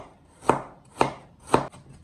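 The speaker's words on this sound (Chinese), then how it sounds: "最后我们再来切点姜" A knife strikes a cutting board while chopping ginger for dumpling filling: three crisp, evenly spaced chops about half a second apart, followed by a couple of softer taps, with no talking.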